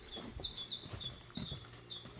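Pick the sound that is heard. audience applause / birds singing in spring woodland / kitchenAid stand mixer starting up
birds singing in spring woodland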